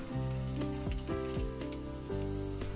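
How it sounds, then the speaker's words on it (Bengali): Boiled cauliflower and green beans sizzle steadily in hot oil with whole garam masala spices, a continuous close frying hiss with faint stirring and no talk. "প্রথমে আমি গোটা গরম মশলা দিয়ে দিলাম তেলের মধ্যে। এবারে সিদ্ধ করে রাখা ফুলকপিগুলো দিয়ে দিলাম, বিনসগুলো দিয়ে দিলাম"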